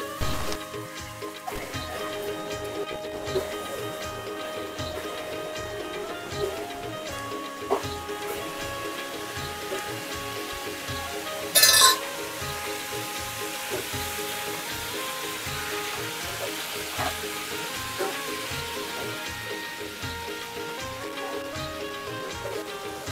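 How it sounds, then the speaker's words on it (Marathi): Cleaned crabs frying in a pan for a Malvani crab curry, a steady low sizzle running throughout with faint clinks and one brief sharp scrape near the middle. "आपण जे साफ करून घेतलेले खेकडे असतात ते आपण सोडणार आहोत आणि त्यांना फ्राय करून घेणार आहोत"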